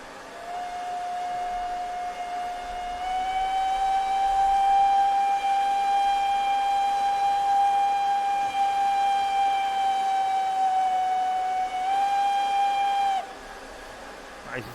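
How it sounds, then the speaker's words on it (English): Steam whistle of an SDJR 7F 2-8-0 freight locomotive in Train Simulator, one long steady blast of about twelve seconds whose pitch rises slightly early on, loud and close, then cutting off sharply. "depending on how hard you pull the whistle, it has a different tone"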